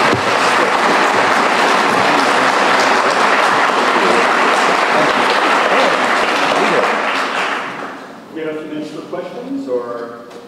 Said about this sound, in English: Let's give Jim a round of applause.